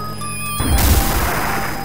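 A Harkonnen structure blows up in the Dune II strategy game on PC DOS, a sudden loud crash and burst of noise that cuts in after a tonal game sound and then rumbles on as a broad, dense roar.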